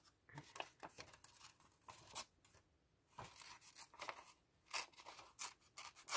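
Scissors cut paper for a junk journal page: a close, irregular series of crisp snips and slicing rasps, with short pauses between cuts and faint rustling of the sheet.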